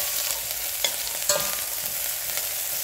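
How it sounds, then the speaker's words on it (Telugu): Ginger garlic paste frying in a pan makes a steady, bright sizzle, with a couple of soft stirring scrapes and clicks over the continuous hiss. "అల్లం వెల్లుల్లి కొద్దిగా వేగాక"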